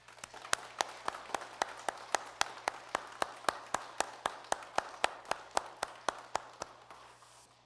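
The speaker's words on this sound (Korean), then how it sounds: "우리 하나님께 박수 한번 올려드리겠습니다." Church congregation claps during a Sunday sermon, a faint, fairly regular series of claps at an even rhythm that trails off at the end.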